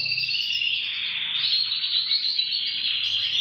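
Dense, continuous high chirping and trilling from female canaries in a breeding setup, loud and close with no pauses and no voices.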